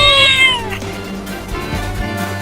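A cat meows loudly in a drawn-out, falling cry, close and alone, within a cartoon comedy scene set at a water park, with a low steady hum beneath.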